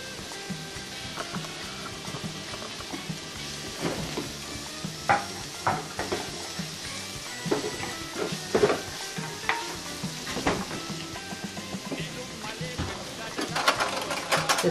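Curry leaves and fenugreek seeds frying in hot oil for a beef curry, a steady crackling sizzle with sharp pops and stirring clatter throughout, fairly close.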